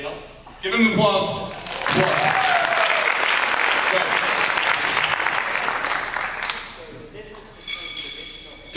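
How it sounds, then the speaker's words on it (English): An audience at a university drum clinic breaks into applause, a dense steady wash of clapping for several seconds, with a voice speaking briefly before and after it. "Give him applause."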